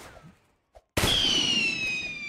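A single sharp sniper gunshot in the Roblox game, a loud sudden crack followed by a ringing, slowly fading tail, preceded by a quiet moment and a tiny click.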